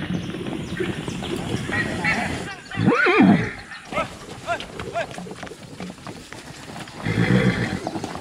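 Young horses about three years old whinny with rising and falling calls beside a buried 4x4 truck outdoors, amid hoof clatter and rustling, fairly close, with talking heard over parts of it.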